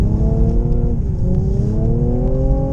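A Mercedes-AMG C43 4Matic drifts sideways on a winter track in Sweden, its engine droning steadily and loudly with pitch that dips and then climbs again as the throttle is worked, alone with no talk.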